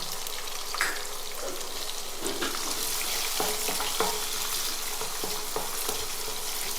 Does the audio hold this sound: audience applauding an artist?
no